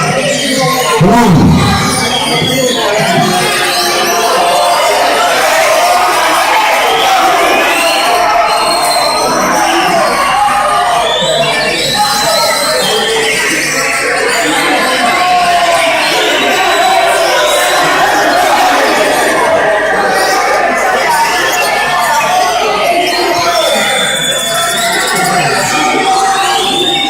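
A crowd of spectators shouting and clamoring at a murai songbird contest, a dense continuous babble of voices and calls throughout with an announcer's voice over it.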